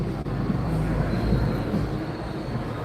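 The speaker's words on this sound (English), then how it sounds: "the train just going past" A train rumbles past at a steady, heavy roll near Penkridge, England, a continuous low clatter and drone that fills the whole stretch without voices.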